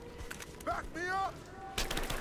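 Gunfire in the action game Rise of the Tomb Raider: a short burst of rapid shots ends the moment, preceded by pinging ricochet-like tones and a brief voice amid the noise.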